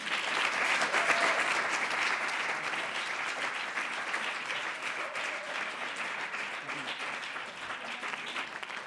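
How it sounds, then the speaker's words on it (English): Sustained applause from a crowd, dense clapping that stays strong throughout and eases slightly toward the end. "I would like to start with a very big applause"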